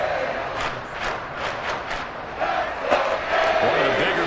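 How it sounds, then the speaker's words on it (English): A stadium crowd at an American football game cheers and roars in a broad, steady wash of noise, swelling slightly toward the end. "The crowd getting into it as we come up on a big third down."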